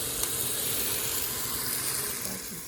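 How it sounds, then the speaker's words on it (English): Pork ribs sear in hot oil in a heated pot, giving a steady, faint, even sizzle and hiss with no talk over it. "In a heated pot, put some oil and then start searing the outside of the pork."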